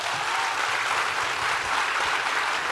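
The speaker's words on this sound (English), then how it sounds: "I think we can clap louder for that." An audience claps steadily and loudly, a dense, even wash of applause from a crowd that holds throughout without pause or talk.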